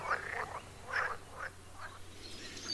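Frogs croak in short, repeated calls, roughly five or six bursts at a steady pace, close and moderately loud against a quiet low hum, with no voices.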